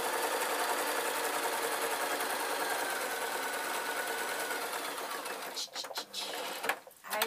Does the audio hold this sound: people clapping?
no